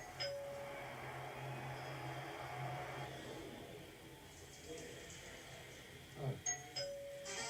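A doorbell rings in an Uber Eats advertisement: two short chimes, one near the start and one near the end, soft and clear over a quiet background with faint voices.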